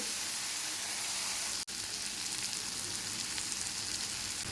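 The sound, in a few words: spice paste sautéing in a pan for bitter gourd fish curry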